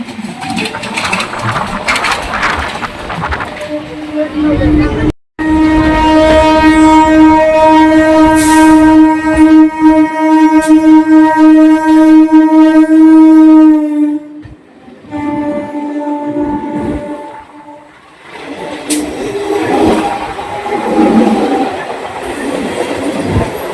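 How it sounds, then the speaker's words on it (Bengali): A local train on the Howrah–Tarakeswar line pulls out of Bally towards Uttarpara, sounding a long, loud, steady horn blast over heavy rolling rumble, then fading to rail clatter and rumble. "বালি থেকে ট্রেনটি ছেড়ে দিয়েছে, এবার যাবে উত্তরপাড়া"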